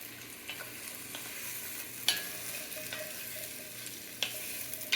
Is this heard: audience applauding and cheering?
no